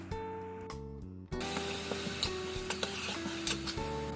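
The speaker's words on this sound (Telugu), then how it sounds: "ఇప్పుడు అల్లం వెల్లుల్లి పేస్ట్ వేసి 30 seconds ఫ్రై చేయాలి." Ginger garlic paste frying with onions in a pan for crab curry, a continuous sizzle with scattered stirring clinks and scrapes after a brief quiet pause, close and steady with no talking.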